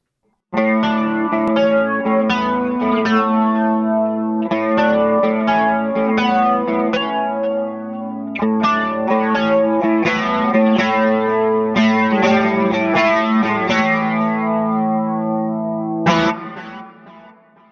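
Electric guitar through a chain of Dimension chorus pedals and a mixer, lush chorus with wide shimmering chords and notes ringing continuously for several seconds before fading out.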